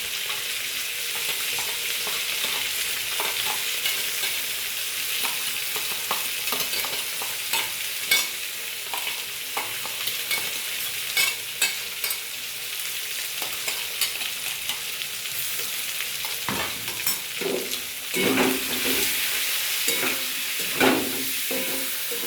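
Rui fish stir-frying in a pan after a paste of coconut, mustard and cumin with green chilli goes in: a steady sizzling hiss with scraping stirs and clinks throughout, several louder spatula knocks near the end, no voices.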